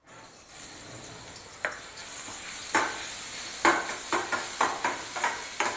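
Vegetables with chopped ginger and garlic fry in a spoonful or two of oil in a pan for momos. A continuous sizzle runs throughout, with repeated close scrapes and clinks from stirring and no talk.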